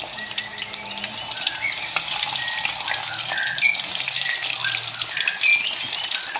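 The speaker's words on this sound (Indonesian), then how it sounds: "Karena minyaknya udah panas ya teman-teman ya, minyak udah panas, kita langsung masukin aja si kentangnya" Potato pieces sizzle and crackle in hot oil, a steady bubbling hiss that carries on throughout at close range, with no talking.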